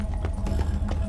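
Horse hooves clip-clop in The Witcher 3 video game, a short, even run of hollow, rhythmic hoofbeats over a steady low background.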